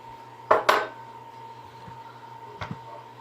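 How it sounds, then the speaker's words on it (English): Onions tipped into a frying pan on a home stove, heard as two quick metallic clanks and scrapes close by, then a quieter knock a couple of seconds later against low room hum. "we're going to dump our onions in there."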